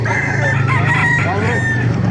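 A rooster crows loudly and close by over a steady low hum at a chicken market in Baliuag, Bulacan, with other chickens faintly clucking in the background.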